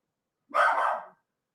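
A dog gives one short, muffled bark, heard alone against silence before and after.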